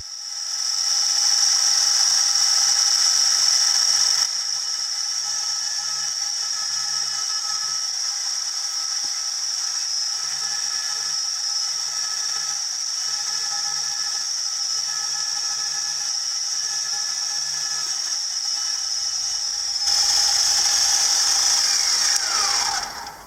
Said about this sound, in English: Now a quick squirt of cutting fluid and then in with the pilot drill.